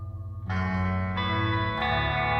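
Sustained synth chords from Sleep Token's "When the Bough Breaks" swell in stepwise changes, washed in heavy reverb that makes them sound spacious and large.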